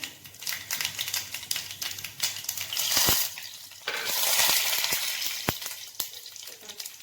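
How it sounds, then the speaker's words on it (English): Mustard seeds crackle and spit in hot ghee, a dense sizzle broken by sharp pops and a few loud isolated bursts, close and steady for several seconds with no talking. "So now our ghee is nice and hot. I'm adding 1 teaspoon of mustard seed."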